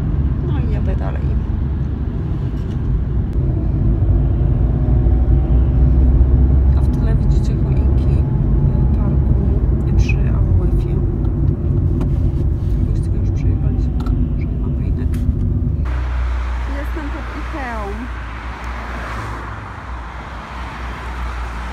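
Inside a car driving late at night, a low, steady engine hum and road rumble fill the cabin while someone talks over it. The noise drops and thins toward the end.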